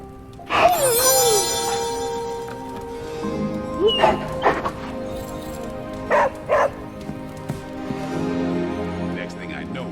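Dog barking and yipping in the video game Marvel's Midnight Suns, a few sharp barks and whimpers mid-clip over game ambience, with a voice speaking early on.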